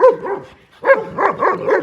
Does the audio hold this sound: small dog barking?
yes